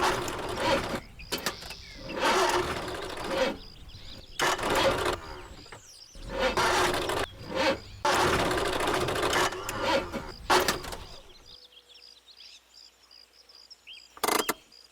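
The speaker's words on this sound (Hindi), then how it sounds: "इंजन में से कुछ आवाज आ रही है।" Mechanical whirring and clattering from a faulty car engine, loud rhythmic bursts with short pauses, dropping to quiet before one final clack; no talking.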